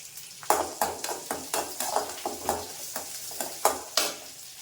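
Cumin seeds drop into hot oil for a tempering to finish spinach dal, crackling and popping in sharp, irregular bursts over a steady low sizzle, close and clear with no talk.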